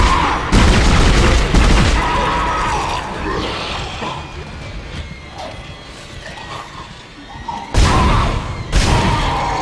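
Video-game gunfire from a weak gun in Dead Space: loud booming blasts at the start and end with heavy mechanical noise and a rumbling tail between them.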